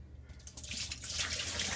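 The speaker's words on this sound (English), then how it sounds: "Okay, so just pour the water off." Water is poured off aquarium gravel in a bucket, making a continuous splashing, gushing pour that swells after a brief quieter start and stays fairly close.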